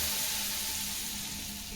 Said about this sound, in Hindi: तो तेल इसी में हम डाल देंगे। तो थोड़ा सा गर्म है